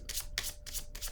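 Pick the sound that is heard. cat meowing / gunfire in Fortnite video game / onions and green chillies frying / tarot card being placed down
tarot card being placed down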